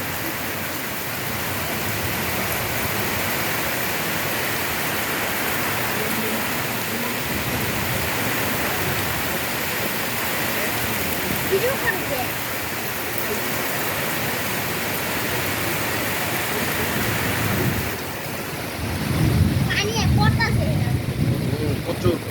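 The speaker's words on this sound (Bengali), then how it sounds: "প্রচণ্ড তাপের মধ্যে স্বস্তির আবহাওয়া বৃষ্টি কিন্তু বাতাসটা অনেক বেশি শিল শিল শিল করতেছে" Heavy rain with strong gusting wind during a Kalbaishakhi storm, a loud continuous roar of water and air that shifts and swells near the end.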